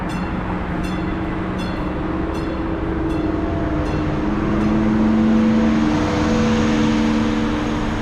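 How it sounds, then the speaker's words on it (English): A BART commuter train passes nearby heading toward the yard, its steady rumble and rail hum swelling to a peak midway and easing off, with faint repeated ticks overhead. "A train passes us, cruising down toward the yard."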